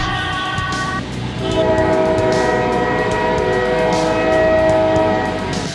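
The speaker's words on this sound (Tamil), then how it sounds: "அந்த ட்ரெயின் வருதுடா" A train draws near and sounds its horn in a loud, sustained multi-tone blast. The horn swells partway through and holds steadily over the rumble of the moving train, with no talking.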